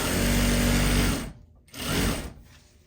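A sewing machine stitching ruffle socks runs in a close, loud whirring burst, stops briefly, then runs in a second shorter burst before winding down.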